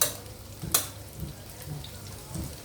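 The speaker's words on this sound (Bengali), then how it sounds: "এটা ভেজে নিলে ডিমের গন্ধটা কমে যাবে।" Cut egg pieces fry in a little oil in a pan, giving a soft, quiet sizzle broken by a few light stirring scrapes and clinks.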